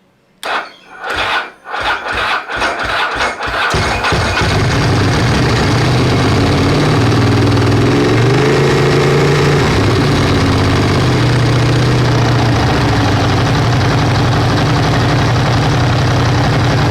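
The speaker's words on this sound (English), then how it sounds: "we'll start it up very quickly to see if the system is charging" A 1999 Ducati 900SS motorcycle cranks over with a rapid, stuttering starter rhythm for a few seconds, then catches and settles into a loud, steady, rumbling idle close by, with no talking.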